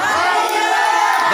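A church congregation at a Philippine anniversary service shouts and cheers loudly together in a sustained roar that fills the whole moment.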